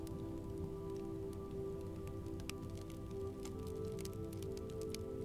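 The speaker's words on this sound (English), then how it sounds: "Rain slid from the roof in a steady line, dripping into a shallow groove worn smooth by years of weather." Steady rain runs off a roof and drips into a shallow groove, a continuous soft patter with scattered brighter drops, heard alone beneath a low, constant hum.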